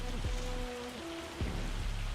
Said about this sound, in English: it's not overly realistic harvesting in the hail